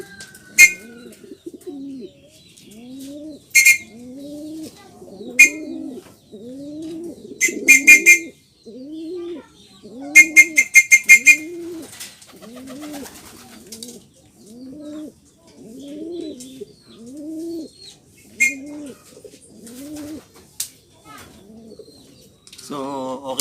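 Racing pigeons at a club training loft coo in a steady series of throaty, rising-falling calls close by, broken by a few sharp bursts of higher chirps and flutter, with no talking.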